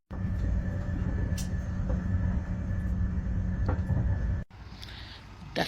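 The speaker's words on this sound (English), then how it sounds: "The Circle Line train via Tower Hill and Liverpool." A London Underground Circle Line train rumbles loudly and steadily on the move, then the noise drops sharply near the end to a quieter hum with a few faint clatters.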